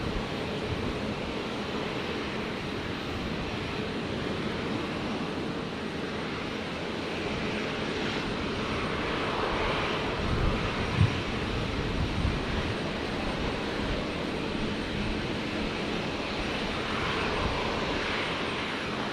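A Boeing 737 in from Christchurch taxis toward the international terminal at Brisbane airport, its engines giving a steady, moderately loud whine and rumble that holds evenly, with a brief swell midway.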